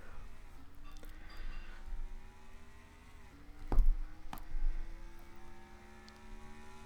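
Race cars in a racing video game roll toward the green flag at Atlanta Motor Speedway in the Chevy Accessories 500, a steady multi-car engine drone with rising pitch and a couple of louder passes.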